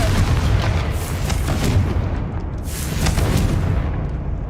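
Repeated Confringo explosive spells going off in the Hogwarts Legacy video game, booming blasts over a dense continuous rumble, with a couple of sharper bursts standing out.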